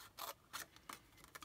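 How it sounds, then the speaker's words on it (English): Several quick, crisp snips of scissors cutting through paper, close and quiet, in a loose uneven rhythm. "I'm going to come along with my scissors and cut that away"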